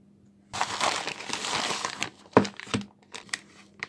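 Crinkly plastic packaging being handled, likely the bag holding an aluminum plate adapter for an action camera gimbal; a dense rustle for about a second and a half, then several sharper, separate crackles, close and fairly quiet.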